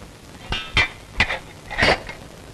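Spoon stirring tea in a cup, four distinct metallic clinks spaced irregularly, close and fairly loud with quiet between them.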